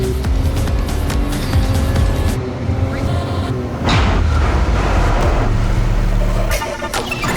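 A Nissan car speeds up through a flooded road test, its engine roaring loudly and close with rising tonal revs, then a burst of water spray and tire noise as it ploughs through.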